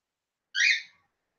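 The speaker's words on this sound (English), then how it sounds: "You're hearing my cockatiel chirping." A pet cockatiel gives a single short, bright chirp, a brief clear call standing alone against silence.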